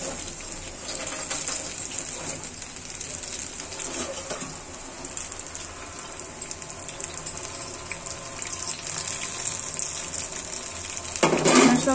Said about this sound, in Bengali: আমি একটু থালাটা ধুয়ে নিচ্ছি, কারণ এটা না ধুলে পরে শক্ত হয়ে যায়।